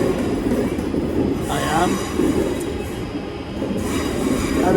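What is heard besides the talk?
train at a West Midlands station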